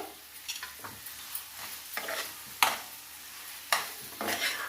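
Potato curry frying in a pan for aloo bonda filling, no onions: steady close sizzle with repeated scraping stir strokes of a spatula every second or so, no voices.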